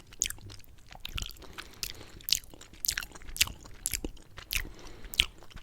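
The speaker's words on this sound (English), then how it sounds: "You're just chewing through it, almost like Jello." Close-miked chewing of gummy candy gives soft, sticky, squishy bites and wet smacks at an irregular, unhurried rhythm, with no talking.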